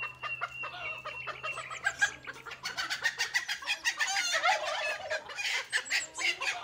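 A rooster and chickens at a farm cluck and squawk in a busy, overlapping flurry of calls, growing louder and denser partway through, with no talking.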